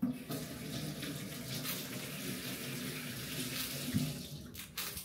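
Ginger rinsed under a running kitchen tap, a steady close stream of water with slight splashing changes as the root is moved beneath it.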